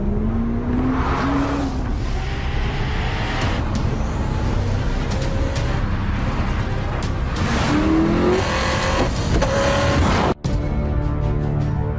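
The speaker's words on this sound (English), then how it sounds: "The Hennessy Venom GT." A Hennessy Venom GT sports car roars past with a loud engine, rising and falling revs through gear changes, a brief dropout near the end, and no talk.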